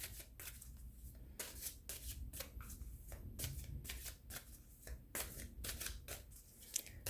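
Tarot cards being shuffled by hand, close riffling and sliding in repeated quick bursts against a soft background, no speech.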